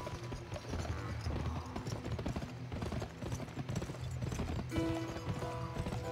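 Horse hooves clip-clop in a steady quick rhythm during riding in the video game Gun, layered with game music and ambience throughout.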